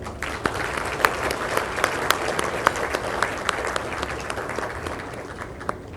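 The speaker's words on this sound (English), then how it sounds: "May I request everyone to clap." A crowd at an Indian independence 75th anniversary celebration claps for the guests of honour, a sustained round of applause with sharp individual claps standing out over the dense, steady patter.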